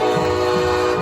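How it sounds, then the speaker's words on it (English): A loud, sustained train horn blast sounded after a touchdown at a football game in Celina, Texas, a steady blaring chord with no break in this short stretch. "they blast that train horn with every touchdown"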